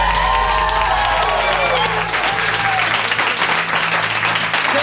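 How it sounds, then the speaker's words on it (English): Audience applause from a large gathered crowd in Los Angeles, a steady dense roar of clapping with some cheering, loud and continuous throughout, with a voice audible faintly underneath. "I want to give you all a big round of applause for getting here."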